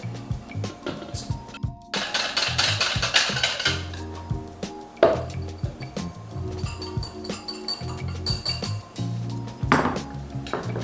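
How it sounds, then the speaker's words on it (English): Flour and salt being worked slowly into a small batch of Yorkshire pudding batter in a bowl, with steady clinks and taps of utensil against dish and a brief run of whisking scrapes, close up with no talking. "I'm going to start incorporating my flour and salt, adding them slowly."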